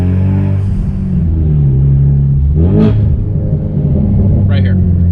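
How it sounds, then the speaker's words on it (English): A tuned Ford Mustang EcoBoost rumbles with a low, droning exhaust note, then crackles and burbles in short bursts off throttle, loud and close throughout. "If you let off the gas, she will burble."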